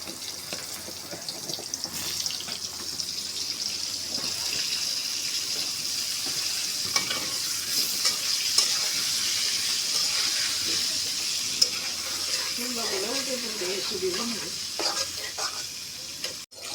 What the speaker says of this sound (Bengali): এখন আমি পটলগুলি ভেজে নেব